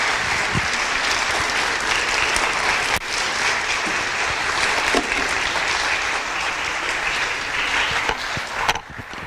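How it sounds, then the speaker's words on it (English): An audience at a village manager search meeting applauds a candidate named Allison. Dense, even clapping carries on steadily for roughly nine seconds with a few sharper claps standing out near the end. "Can we give her a round of applause?"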